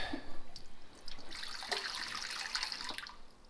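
Water splashed into a cooking pot in a kitchen while preparing fish, a short, soft pour with light trickling and splashing close by.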